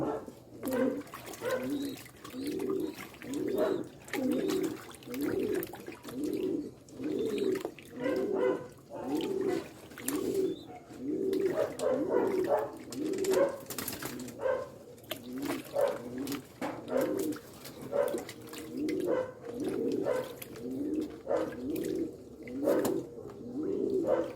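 Racing pigeons cooing in a loft, a steady rhythmic run of soft throaty coos repeating every second or so, close by, with faint background rustling.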